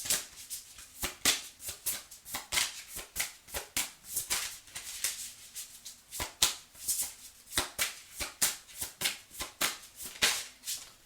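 Tarot cards being shuffled by hand, a steady run of crisp riffling flutters and soft slaps repeating close up for the whole stretch, with no talking.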